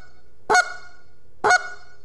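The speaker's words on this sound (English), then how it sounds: "That's a cluck." Two short, reedy honks from a goose call (goose flute), each snapping sharply upward to a high note, played alone and about a second apart.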